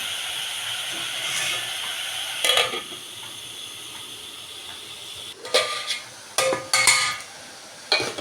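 Onions sautéing with a little salt for mutton curry hiss and steam in a pan, while a spoon scrapes and clanks against the metal in several short bursts over the low, continuous sizzle.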